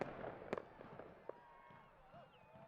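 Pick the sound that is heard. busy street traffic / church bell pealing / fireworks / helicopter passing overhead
fireworks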